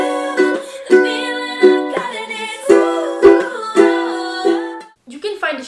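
Ukulele strummed and plucked in a rhythmic chord pattern playing a song, bright repeating chords with clear attacks, close and alone, a brief pause near the end.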